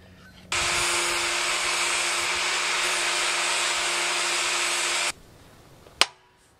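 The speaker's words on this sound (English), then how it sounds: "I've done the guts of the job with the angle grinder" An angle grinder spins up and runs at a steady high-pitched whine for about four and a half seconds, then cuts off, followed by a single sharp knock, close and loud.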